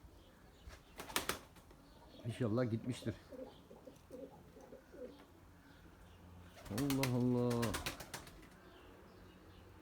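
Domestic pigeons beat their wings in quick flapping bursts and give soft coos while a hawk hovers nearby. The sounds come in two clusters, with someone speaking in between.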